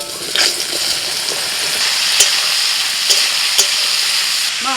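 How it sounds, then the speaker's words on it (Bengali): Mushrooms fry in hot mustard oil in a kadai, giving a loud, steady sizzle with a few scraping stirs and clicks throughout, with no talking. "তেল গরম হয়ে গেছে, দিয়ে দিচ্ছি মাশরুম।"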